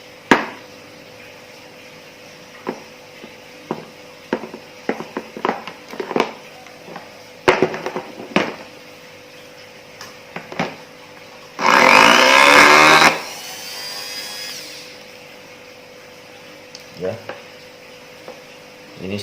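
A small rotary grinder for carving stone and wood switches on briefly, giving a loud, close, high-pitched whir for a second or two that then winds down, set among scattered handling clicks and taps.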